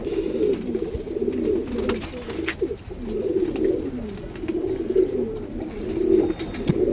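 Breeding pigeons, male and female, cooing steadily in a loft: repeated low, throaty coos in rolling phrases, close and continuous, with faint background clicks and no talk.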